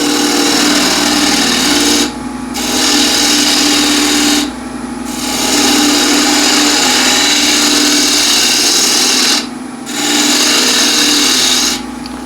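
A wood lathe turns a tenon on the bottom of a large bowl, a loud continuous rasping scrape of the gouge on spinning wood, broken by three short pauses where the cut lifts off before resuming.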